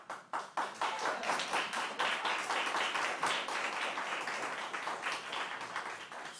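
A crowd at a public county Freeholders meeting claps for a departing speaker. The applause is dense, steady and moderately close, lasting several seconds, with no talking.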